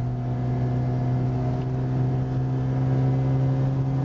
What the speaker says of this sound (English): Accelerates really well for a stock engine, stock compression.